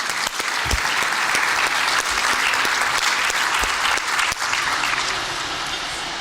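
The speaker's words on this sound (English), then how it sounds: "So give them all a round of applause" An audience at a public conversation between Ambassador Ken Salazar and Emilio Cadena claps in a dense, steady round of applause that stays loud throughout, fading slightly toward the end, with no voices over it.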